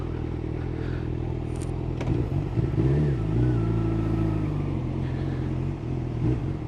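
Old cars drive past near Westminster Abbey in London, their engines rumbling and revving steadily with some clatter, loud and close, heard from a motorcycle with no talk over it.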